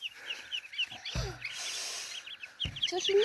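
Small chicks peep in quick, high chirps, scattered and close, while a couple of brief low thumps break in partway through.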